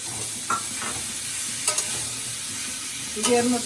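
Spice paste for a vegetarian vegetable curry sizzling and frying in a pan, a steady hiss with scraping stirs and a few sharper crackles, close and without talk.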